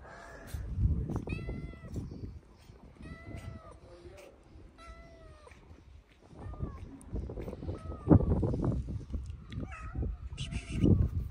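Several cats meowing repeatedly in short, rising calls, some near and loud, spread through the scene over rustling background noise, with bursts of louder activity.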